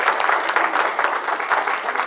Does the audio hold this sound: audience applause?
yes